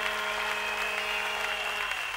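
A church congregation claps together, a brief, continuous burst of crowd applause heard against a steady electronic hum from the hall's sound system.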